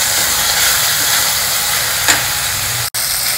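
Onions and tomatoes fry in a pan for usal, a steady loud sizzling hiss that carries on throughout, broken only by a brief dropout near the end.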